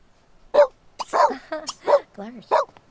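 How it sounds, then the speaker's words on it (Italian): A dog in The Sims 3 video game barks in short separate yelps spaced across a few seconds, heard clearly and alone without talk over it. "Ma perché lui abbaia?"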